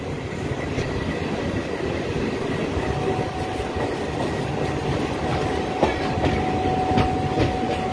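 A passenger train running on the line between Asansol and Purulia, heard from on board as a loud, continuous rumble with rhythmic clickety-clack of wheels over rail joints and occasional sharper knocks, without any talking.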